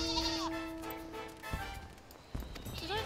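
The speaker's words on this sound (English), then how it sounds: "Did I just hear a sheep?" A sheep in Final Fantasy XIV bleats with a wavering cry, followed by clopping hooves and a second bleat near the end, amid background game sounds.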